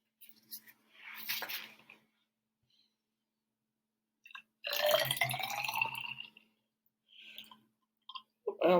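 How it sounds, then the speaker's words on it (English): Liquid is poured from a laboratory beaker into a cup in a quiet room, a short trickling splash in bursts with faint clinks and small handling sounds around it. "I almost just kept pouring all willy-nilly."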